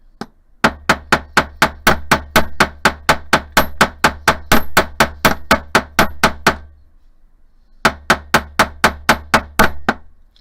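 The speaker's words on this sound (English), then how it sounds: "this is the last bit of hammering" A hand hammer pounds metal hoop earrings in rapid, even strikes, a long run of sharp loud blows, a brief pause, then another burst of hammering, with no talking.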